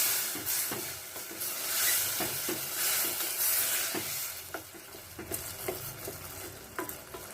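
Green pea ghugni with amla stirred in a pot after hot water goes in, giving a steady close sizzle and hiss with repeated scraping spoon strokes, no voices.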